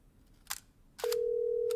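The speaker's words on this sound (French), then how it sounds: "Elle passe un coup de fil." A couple of faint taps, then a steady electronic tone starts and holds as a mobile phone dials a call.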